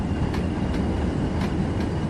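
A coal train in Train Sim World 6 rolls along with a steady, loud rumble of wheels on rail and faint periodic clicks, close and continuous with no talk.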